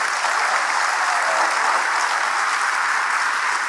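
A crowd at a political speech in Chhattisgarh claps steadily and loudly, a dense, even roar of many hands sustained throughout with no talking over it.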